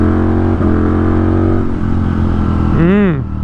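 A Ducati V4S motorcycle engine revs hard through the gears, a loud, close, steady drone that steps in pitch with shifts, ending in a sharp rising and falling rev.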